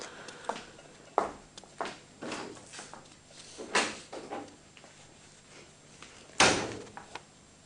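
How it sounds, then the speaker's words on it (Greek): At night a door or window is worked open, a series of wooden knocks, creaks and scrapes spaced irregularly, with two louder clattering thuds, fairly close and without talk. "Ας ανοίξουμε να μπει λίγο δροσερός αέρας πριν κλειδώσουμε την πόρτα"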